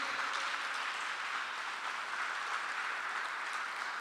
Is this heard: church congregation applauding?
yes